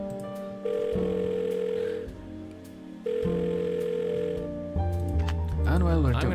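A phone call is dialed in The Blackwell Deception video game: loud, steady electronic tones switch pitch in blocks, then end in a warbling, wavering signal near the close.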